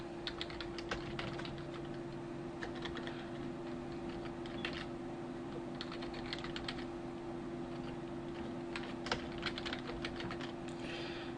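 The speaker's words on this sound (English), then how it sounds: "so we're going to type that in there." Steady keystrokes on a computer keyboard as text is typed in, irregular clicks close up over a constant low electrical hum, with no voices.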